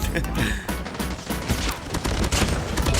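Shotgun fire in the mobile game Call of Duty Mobile comes as a loud, dense barrage of blasts and explosions, close and continuous, while a player talks over it.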